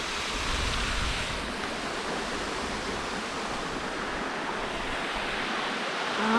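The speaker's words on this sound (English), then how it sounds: "the Rockhole part I think they call it. Waterfall." A waterfall at the Rockhole swimming area in Kakadu, a constant broadband roar of falling water, steady and fairly close, with no voices.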